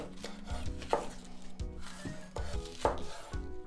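A knife cuts cabbage stems into thin slices on a cutting board, giving a series of close, crisp chopping thuds about every half second.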